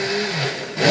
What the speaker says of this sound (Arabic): وده صوت الخلاط ده مزعج جدا لانه قوي